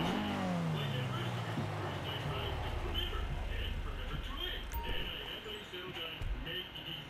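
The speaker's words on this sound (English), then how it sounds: "going to drive that into the garage" A car in Grand Theft Auto V drives into a garage: a steady engine drone with a falling pitch as it slows, plus a faint rattle and a few clicks, heard continuously with a voice over it.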